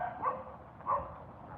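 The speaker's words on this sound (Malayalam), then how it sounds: "രണ്ട് നായ്ക്കൾ എന്നെ നോക്കി കുറയ്ക്കുന്നത്" A couple of soft barks from two dogs, faint and somewhat distant, separated by quiet, followed by a sudden sharp noise at the very end.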